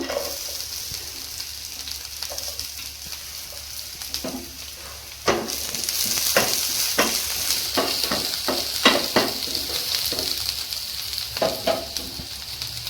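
Onions sizzle in hot oil with garlic and ginger for a vegetable soup, a steady frying hiss broken by repeated clinks and scrapes of a spoon stirring the pan, close and without talk.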